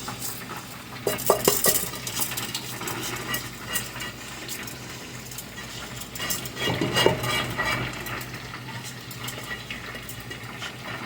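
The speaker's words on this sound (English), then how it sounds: "If you guys see me scooping out the rice." A spoon scoops cooked rice out of a pot for rice and peas, giving repeated soft scraping and clinking strokes at an uneven pace, close and fairly quiet, with no voices.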